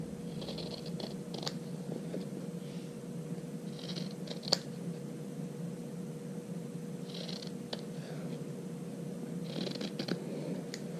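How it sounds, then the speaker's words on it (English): Scissors snip through sewn fabric, trimming corners and bulk from a project, in quiet intermittent clusters of short crisp cuts over a low steady hum, with no talking. "just trim your corners and trim the bulk away"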